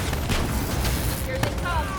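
Heavy gunfire and explosions from the video game Call of Duty: Black Ops 3 fill the whole stretch as a dense, continuous barrage, with a sharp louder crack near the end and brief whistling tones above the din.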